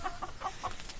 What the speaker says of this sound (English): We have two roosters and two hens